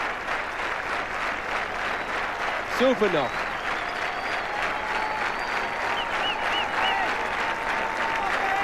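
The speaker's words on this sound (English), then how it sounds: "Crowd rising to him, and quite rightly so." A cricket crowd at a 1996 World Cup match between England and Holland applauds a departing batsman with sustained loud clapping and cheering, a commentator talking over it and a few whistles cutting through.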